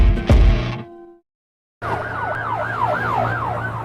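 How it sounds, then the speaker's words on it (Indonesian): Police car siren wails in a rising and falling pattern, loud and close, following a sharp impact and a brief silence, with steady traffic rumble underneath. "Segera terdengar suara mobil polisi datang."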